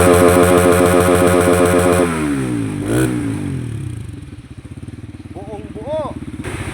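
A Rusi Flame 150x motorcycle with its stock exhaust, revved close by: a loud steady engine drone with rising and falling revs, and someone talks over it briefly.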